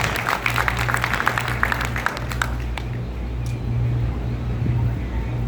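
Loud, dense audience applause at a Hindi poetry reading by Poonam Verma, a broad wash of clapping that thins out after a few seconds over steady low hum.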